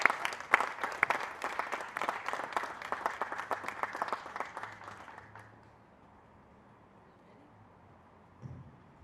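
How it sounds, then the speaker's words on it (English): A crowd at a youth baseball game's dedication ceremony claps, crisp and fairly close at first, thinning and fading out about halfway through, leaving quiet room tone and a brief low bump near the end. "Let's have a round of applause, please."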